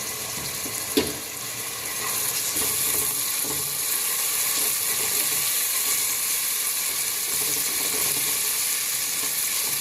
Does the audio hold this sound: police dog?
no